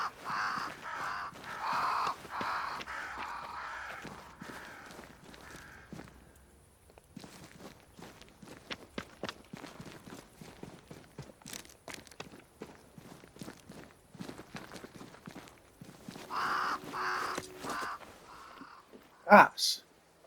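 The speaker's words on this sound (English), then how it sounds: "Crows. They flock to that great tree up there." Crows caw repeatedly from a flock around a great tree in the video game Banishers: Ghosts of New Eden, the calls standing out over footsteps on the ground while people talk.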